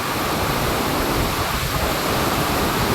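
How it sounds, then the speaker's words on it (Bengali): Heavy rain pours outside a railway car shed, a loud, dense and continuous roar of rainfall with no breaks. "জোরদার বৃষ্টি হচ্ছে, মানে এখানে এত বৃষ্টি হয় মানে ভাবার বাইরে"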